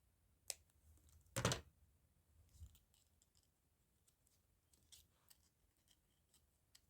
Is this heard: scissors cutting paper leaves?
yes